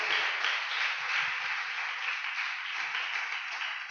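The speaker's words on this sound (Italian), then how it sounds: "un applauso al nostro amico Simone." Steady applause from a group, a dense wash of clapping hands that continues evenly throughout without any talking.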